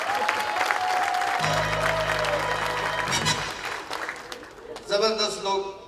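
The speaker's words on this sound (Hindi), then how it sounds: "आप अपने लिए तालियां बजाएं, खुल के बजाएं, नाज़माबाद तक आवाज जाए" Reunion audience applause at a Nazimabad gathering, a continuous patter of many hands under a sustained tone and voices, with a musical jingle sounding near the end.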